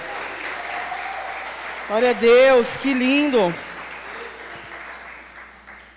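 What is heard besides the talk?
congregation applauding in church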